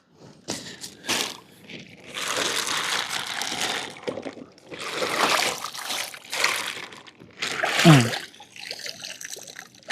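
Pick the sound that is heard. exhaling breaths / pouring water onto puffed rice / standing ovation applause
pouring water onto puffed rice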